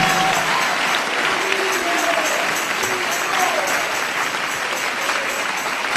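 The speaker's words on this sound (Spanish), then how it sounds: "Dale ese aplauso de alabanza y de victoria a Jesús de Nazaret" A church congregation claps in praise during a testimony service, giving a thick, sustained wash of applause that stays even and full throughout, with a faint voice underneath.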